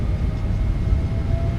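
Twin engines of a PMDG Boeing 777-F spooling up to takeoff power in the MSFS2024 flight simulator, a steady, loud, dense low roar with a faint high whine running throughout.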